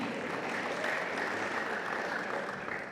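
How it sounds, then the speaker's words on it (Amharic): Audience at a prayer conference applauding, a dense, even wash of many hands clapping that holds steady for a few seconds, with no voices standing out. "አጨብጭቡለት"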